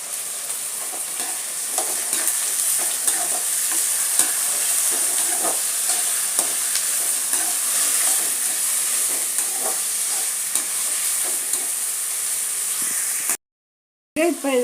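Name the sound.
frying and stirring onions and vegetables for rava kichadi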